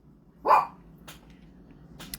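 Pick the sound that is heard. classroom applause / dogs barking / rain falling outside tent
dogs barking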